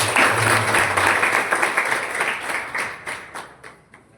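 Audience applause for newly appointed office-bearers at a women's Chutuku literary gathering, loud massed clapping that starts at full strength and gradually thins and fades over several seconds.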